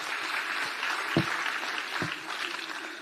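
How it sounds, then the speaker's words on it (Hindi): An audience at a Jharkhand state legal services camp claps steadily to welcome a guest, a continuous moderate wash of applause heard from a distance with no talk. "जोरदार तालियों के साथ स्वागत करें"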